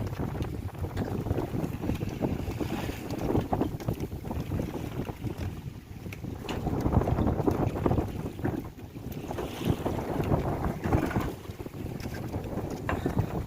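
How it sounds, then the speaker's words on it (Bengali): Strong waves on a Sundarbans river heard from a small fishing boat: a constant rough wash of water and wind buffeting the microphone, with irregular surges and slaps against the hull and no talking. "প্রচণ্ড ঢেউ হচ্ছে বন্ধুরা,"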